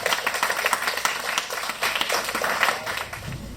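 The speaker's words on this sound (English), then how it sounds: "we'll give him a round of applause." An audience at a club awards night applauds, a dense patter of many hands clapping at moderate distance, sustained for a few seconds with no talk over it.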